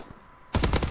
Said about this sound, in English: that guy absorbs all the shots that I shoot at him